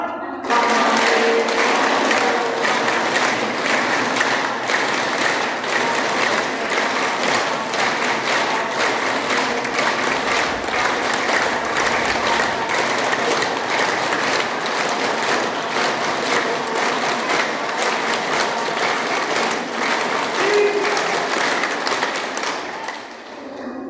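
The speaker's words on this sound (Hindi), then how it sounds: "फिलहाल राम के नाम पे ताली बजाएंगे" Schoolgirls at a government girls' inter college in Kandhla clap together in a steady, continuous rhythm for about twenty-four seconds, loud and close, with no talking over it.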